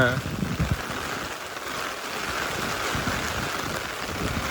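Steady rain hisses and patters on a weekend in Japan, a continuous wash of drops with a brief voice near the start.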